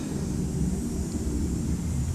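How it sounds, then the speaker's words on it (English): Distant airshow aircraft noise: a steady, broad low rumble and roar heard from far off at moderate level, unchanging throughout with no distinct passes and no talk. "Yeah, it's the air show, but I don't see any planes."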